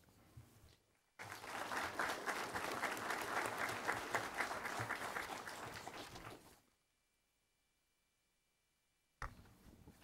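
Audience applause closing a lecture at a criminal-case seminar, a dense burst of many hands clapping for about five seconds before fading into near silence.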